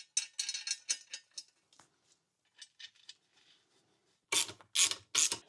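A ratchet wrench removes the mounting bolts of a Mercruiser trim pump. Bursts of close, clicking ratchet strokes come in quick rhythmic runs with short pauses between them, and a few louder clicks come at the end.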